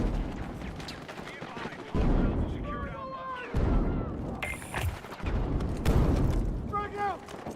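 Loud bursts of explosions and gunfire from a first-person shooter game, with a grenade blast among several heavy broadband hits spread across the clip, while a voice talks over parts of it.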